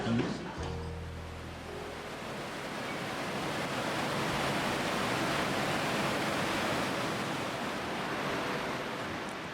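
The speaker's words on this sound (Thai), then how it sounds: "หลับท่ามกลางเสียงน้ำไหล" Steady broadband rush of flowing water fills the whole clip, constant and fairly loud, like a nearby stream or small falls, heard from a Kinugawa Onsen resort, with a brief low rumble at the start.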